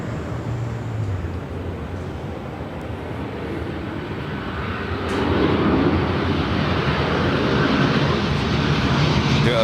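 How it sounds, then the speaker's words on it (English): A Delta 767 heavy rolling for takeoff on runway 24 left at LAX, bound for JFK: a distant, steady jet rumble that swells noticeably louder midway and holds. "we'll stay with the shot of the 767. As she now rolls down 24 left on her way to JFK."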